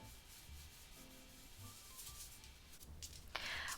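Rhythmic scratchy rubbing of sandpaper on a tabletop, repeated strokes at close range, growing louder and harsher toward the end.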